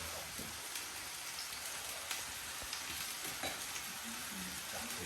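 Chicken kebab pieces and onions sizzle in a pan, giving a steady, fine crackling hiss with scattered pops throughout, close and fairly quiet, with no talking.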